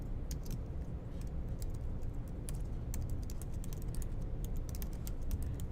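Rapid, steady typing on a computer keyboard while entering Git configuration details, a dense stream of light key clicks over a low background hum, close and continuous with no talking.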